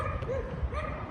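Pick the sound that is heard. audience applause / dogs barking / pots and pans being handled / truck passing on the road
dogs barking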